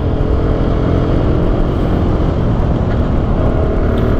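Steady, loud engine drone from a Benelli 150S motorcycle on a test ride, with a continuous broadband rumble and wind noise throughout.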